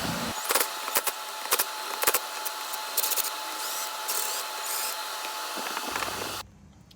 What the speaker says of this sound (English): I'm going to go ahead and take these 4 10mm bolts out